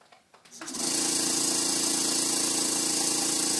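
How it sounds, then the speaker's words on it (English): D500 air compressor switching on after a brief click, ramping up within a second into a loud, steady mechanical drone with a buzzing hum and hiss that continues unchanged. "So as you can tell, the D500 is not the quietest air compressor that you can find these days."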